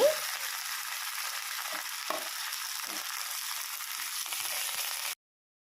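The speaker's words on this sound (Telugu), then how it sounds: "కరివేపాకు పచ్చిశనగపప్పు అన్నీ వేసుకొని ఫ్రై చేసుకోవాలండి ఎండుమిర్చి లో ఫ్లేమ్లో పెట్టుకొని ఫ్రై చేసుకోవాలండి" Curry leaves, chana dal and dried red chilies frying in oil over a low flame, giving a continuous even hiss with a few soft stirring scrapes, then stopping abruptly.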